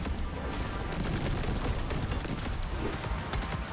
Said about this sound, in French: C'est les tirs verts qui font les grosses explosions.